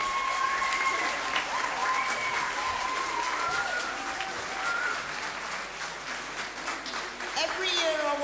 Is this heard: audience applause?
yes